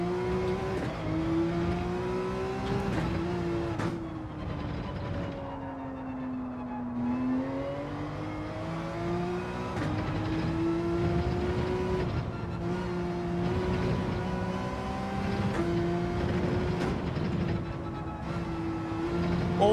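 A Porsche race car engine in Gran Turismo 7 drones loudly and continuously, its pitch repeatedly climbing through the gears and dropping on shifts, with occasional tire squeal.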